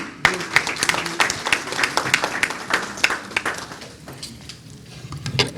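Scattered audience applause at a community book launch for author and former ambassador Karamatullah Ghori, with irregular claps rising and thinning over several seconds, fairly close and moderately loud.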